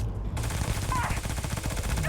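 Rapid automatic gunfire in the game Starfield, a dense, continuous rattling burst of fast shots, loud and close, with a brief voice beneath it.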